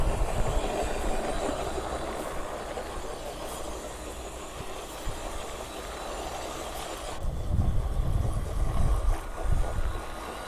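A WPL C34 Pro full-metal Toyota FJ40 scale RC truck with a 370 motor and gearbox running, giving a steady whirring drive with rattly rolling noise and louder low rumbles near the end, no talk.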